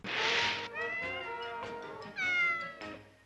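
A cat meows repeatedly from inside a pet carrier, several loud, drawn-out, whiny calls close to the listener with brief pauses between them.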